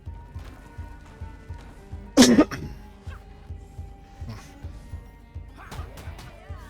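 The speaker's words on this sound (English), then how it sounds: "Sorry about the coughing." A person with a heavy cold coughs once loudly in a short burst, close to the mic, while playing the video game Ravenswatch, with quieter clicking and background game sounds around it.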